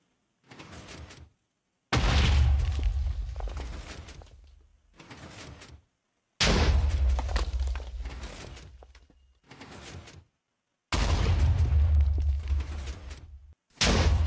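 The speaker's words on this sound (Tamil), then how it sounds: "ஸோ டிஎன்டி வந்து வெடிக்கும் பொழுது அதாவது பிளாக் வந்து மூவிங் பிளாக்காக இருந்துச்சு அப்படின்னா அது வந்து ஃபாஸ்ட்டாக வெடிக்கும்" TNT explosions in the video game Minecraft go off as a series of loud, booming blasts, each tailing off, separated by short silences.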